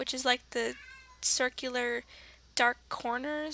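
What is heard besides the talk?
pet cat meowing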